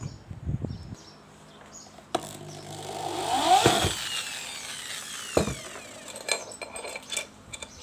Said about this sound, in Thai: ทีนี้เราก็จะมาถอดน็อตพวกนี้ออกนะครับ